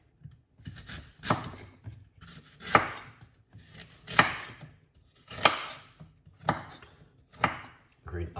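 Fresh ginger chopped with a knife on a cutting board in a home kitchen, about seven firm, evenly spaced thuds with short scraping tails, close and clear with no talking.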